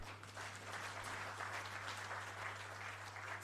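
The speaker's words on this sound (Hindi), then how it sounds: "और इतने बड़े सांभ्रांत वर्ग अभी ताली बजाकर आनंद व्यक्त करता है" An audience at a book launch claps continuously in a large hall, a steady even wash of applause at moderate distance over a constant low electrical hum.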